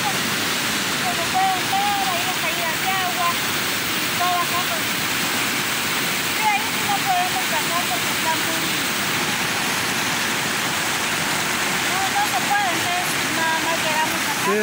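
Steady broadband rush of water falling from a high waterfall on a rural walking trail, continuous and close, with voices talking faintly over the roar.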